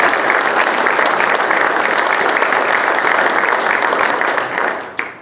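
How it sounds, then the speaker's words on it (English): Sustained applause from a crowd at a federal radar data press conference, dense and loud throughout, fading briefly near the end with a sharp knock. "let's give them a round of applause and thank you"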